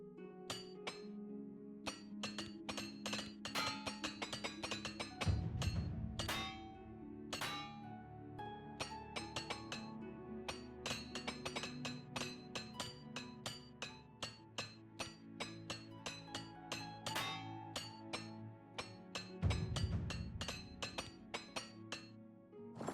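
A repair hammer in Oblivion Remaster strikes over and over in quick, bright metallic clinks, a steady run of sharp taps with a couple of heavier thuds, clear and alone.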